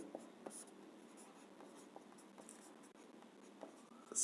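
Pen or chalk writing out a sum on a board during a class 6 maths lesson on whole-number addition, with faint repeated strokes and short taps over a quiet background, no voice at that moment.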